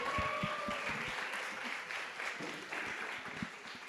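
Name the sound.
audience applause for a presenter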